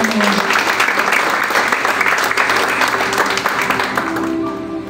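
A church congregation applauding during a wedding ceremony, a sustained, full burst of clapping from many hands that fades slightly at the end, with some voices underneath.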